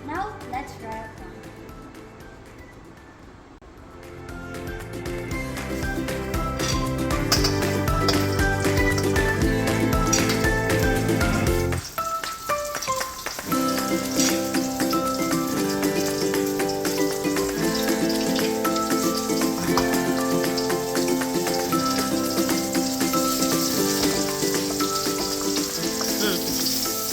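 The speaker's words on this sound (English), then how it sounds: "Now let's fry our prawn." Prawns for Nestum prawn fry in oil preheated for a few minutes, giving a loud, steady sizzle and crackle that runs throughout, with a brief quieter dip early on before the frying swells back up.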